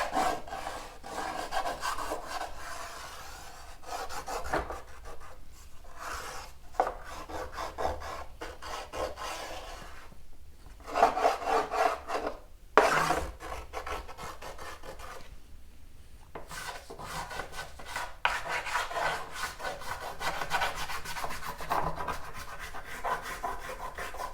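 An artwork surface sanded by hand gives off steady rasping strokes, each a scratchy swish, continuing for the whole stretch with a few brief pauses, close and moderately loud with no voices.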